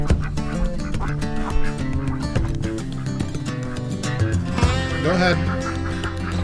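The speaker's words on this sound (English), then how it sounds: "Ducks, what are you doing out?" Ducks quacking outside a farmyard coop, a few scattered quacks mixed into dense background sound and music, with a person briefly speaking.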